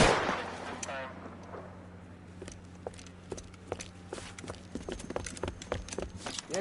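A shootout in the LA Noire game around a tin shack: a scattered run of sharp, fairly faint gunshots and clicks, irregular and sometimes in quick pairs, over a low steady hum.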